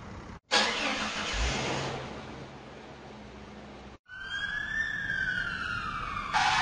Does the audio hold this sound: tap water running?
no